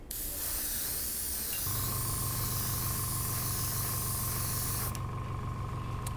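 Airbrush spraying a first coat of Scale75 paint, a steady close hiss running continuously with a compressor hum underneath, the tone shifting as the airflow is adjusted.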